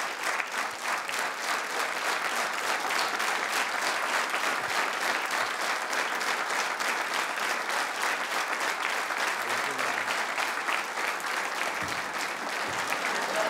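A studio audience gives Bob Klepl sustained, dense applause on a Czech talk show, many hands clapping loudly and evenly for the whole stretch without letting up.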